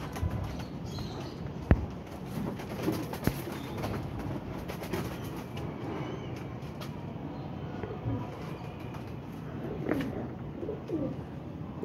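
A released female pigeon coos in soft, intermittent calls, faint against a quiet outdoor background with occasional sharp clicks and bumps.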